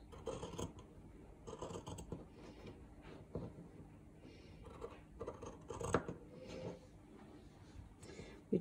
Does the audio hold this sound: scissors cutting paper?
yes